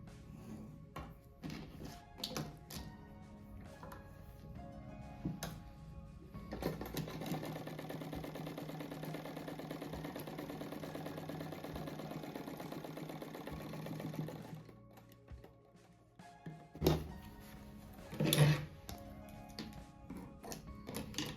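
A sewing machine stitches a patchwork cat mat in bursts of rapid, steady mechanical chatter, a long continuous run in the middle, with quieter pauses and handling clicks between seams, close and clear.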